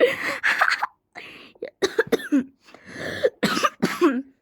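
Repeated coughing in several harsh bursts with short pauses between them, close and fairly loud.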